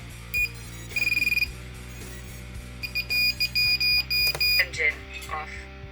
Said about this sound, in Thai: ส่วนตัวนี้จะเป็นบิปเปอร์นะครับ สั่งให้ลำส่งเสียง